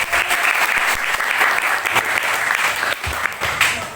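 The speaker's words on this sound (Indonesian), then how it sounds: "Saya mau tepuk tangan saudara yang berdoa ini." A church congregation applauds with dense, continuous clapping that stays loud and close throughout, with no talking over it.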